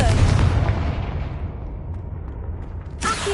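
A Confringo blast spell goes off in a Harry Potter-style video game, a single loud booming burst with a roaring tail that fades over a couple of seconds before a sharp cut.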